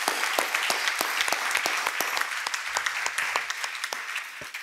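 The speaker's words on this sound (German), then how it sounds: "Das ist ein Applaus wert, auf jeden Fall." Audience applause at a panel discussion: a steady wash of many hands clapping, with sharp individual claps standing out, sustained for several seconds with no talking.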